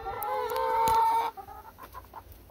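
Close by, a hen gives a loud, drawn-out cluck while pecking at a person's foot, then quieter clucks and background rustling follow.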